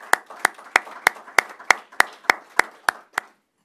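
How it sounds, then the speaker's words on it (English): A small group claps for a figure skating gold medalist at a school board meeting, about eleven distinct, evenly spaced claps in a sparse rhythm that stops after roughly three seconds, close and fairly loud. "So let's give her a round of applause."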